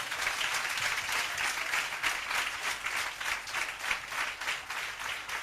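A church congregation applauds and cheers for Jesus, a dense, steady wash of clapping filling the whole stretch at moderate loudness with no break.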